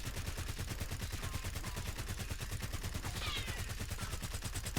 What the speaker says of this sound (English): We're going to let a whole mag go.